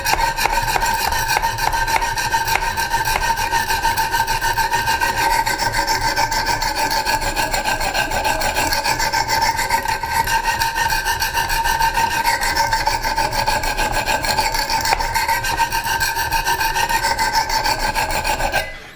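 A Strider SMF knife is drawn against the stones of a Wicked Edge Commercial sharpener, producing a loud, continuous rasping scrape of steel on abrasive in rapid back-and-forth strokes, close up and alone before stopping at the end.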